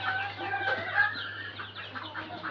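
Hens on a small farm clucking and chattering close by, a busy overlapping stream of soft calls over a low steady hum, with no talk.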